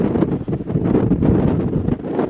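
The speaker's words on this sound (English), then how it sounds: "You can certainly hear and see the wind in the puddle" Strong, gusty wind buffets the microphone outdoors in the Rhinogydd hills of Wales, a steady roaring rush with rising and falling surges and no voices.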